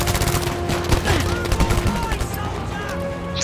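Dense, continuous Battlefield 5 gunfire during a D-Day paratrooper battle: rapid overlapping bursts and single shots at close and middle distance, with a voice speaking faintly over the din.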